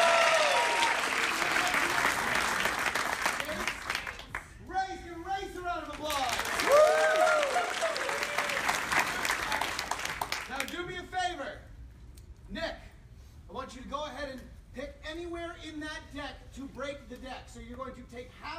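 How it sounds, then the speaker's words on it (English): An audience breaks into applause for a volunteer at a magician's live show: loud, dense clapping for about ten seconds that tapers into scattered claps. Someone speaks over the clapping and keeps talking after it. "Everybody give Nick a round of applause."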